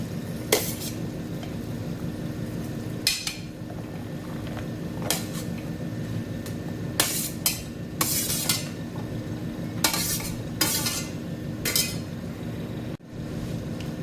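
Chopped vegetables being stirred into rice for veg biryani, close scraping, scratching and clacking of a spoon against the pot in irregular bursts over a low background, no talk.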